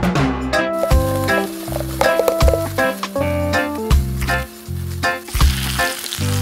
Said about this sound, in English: We use salt and pepper to season the meat. Then fried it.